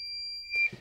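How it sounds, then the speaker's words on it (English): A Fluke 1AC II VoltAlert non-contact voltage tester sounds a steady high electronic tone on power-up, close and clear, then cuts off into a brief soft handling noise. "It beeps twice, turns on."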